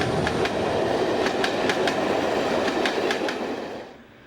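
A pair of Class 37 diesel locomotives, one of them 37411 in green livery as D6990, roll along the rails with a steady rumble and a rhythmic clickety-clack of wheels over rail joints, fading away at the end.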